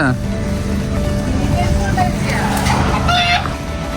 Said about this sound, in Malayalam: ഇവിടെ നമുക്ക് കോഴിക്കൃഷിയും കാണാം.